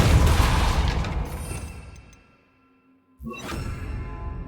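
A Bombarda blast spell going off in Hogwarts Legacy, a loud booming burst that decays into a fading rumble, then near silence before a second sudden whooshing blast cuts in.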